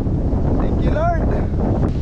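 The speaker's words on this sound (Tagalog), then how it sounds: "Lakas ng hangin, malilipat." Strong wind at sea buffets the microphone in a loud, continuous low roar, with a brief voice-like tone rising through it midway.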